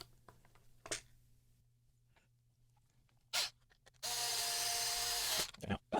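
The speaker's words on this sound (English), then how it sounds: "So the screws go through the body and into the neck." A power driver runs screws through the metal neck plate and body of a StewMac kit guitar into the wooden neck, heard as one steady whirring burst of about a second and a half, close by, between a few short handling clicks.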